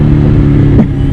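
A BMW M1000RR superbike engine revs steadily at roughly a quarter throttle, a loud, close, continuous motor drone with a brief surge near the end and no talking.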